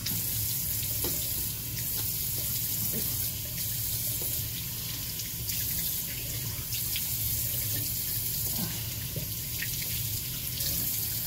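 Tap water runs steadily into a sink while someone washes their face, a close, continuous splashing flow with no pauses, with brief faint drips and clinks on top.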